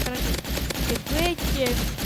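Rapid energy pistol fire in the video game Rivals, a dense burst of zapping electronic shots with sweeping tonal whines, loud and continuous over a short stretch.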